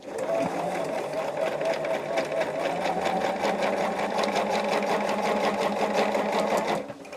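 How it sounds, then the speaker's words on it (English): A sewing machine hums steadily with a rapid stitching rhythm, sewing a quilt block right along a marked line, close and continuous before stopping near the end. "So we are sewing right on that line."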